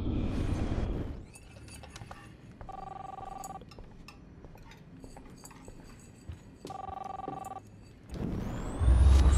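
A home telephone in the video game Life is Strange rings in two clear, steady bursts with a pause between them, framed by louder rustling noise at the start and end.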